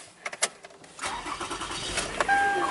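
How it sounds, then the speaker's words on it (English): A Toyota Highlander with a charging-system problem starts up: a few clicks, a short crank, then the engine catches and settles into a steady idle, close and clear. "Fire up the car."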